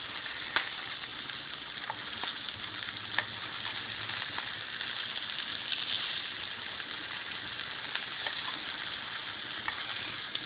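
Meatballs fry in a pan with a steady, moderately quiet sizzle and a few light crackles and pops throughout, with no talking.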